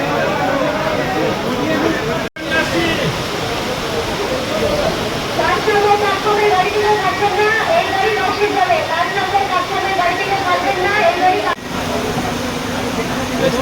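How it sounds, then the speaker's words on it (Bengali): Heavy rain pours at Ranaghat Junction railway station during the first AC local train's run, a loud, continuous hiss with two brief cutouts and faint sounds beneath. "প্রচণ্ড বৃষ্টিও পড়ছে এখানে"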